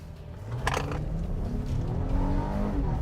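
A 2019 Honda Pilot family SUV engine held at full throttle, a steady loud droning rev that builds and holds with no tire squeal, alone without talk.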